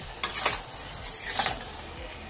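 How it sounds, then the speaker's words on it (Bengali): Spoon stirring melting sugar syrup with ash gourd pieces in a pan over high flame for murabba, a few scraping strokes over a soft sizzle, close and moderately loud. "তো এইভাবে সবসময় নাড়তে হবে।"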